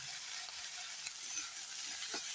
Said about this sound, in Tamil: வெங்காயம் வதங்கிட்டு இருக்கும்போது